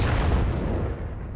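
A heavy artillery shell explodes in the World of Tanks battle game. The loud, broad boom hits at once and rumbles away over about a second and a half.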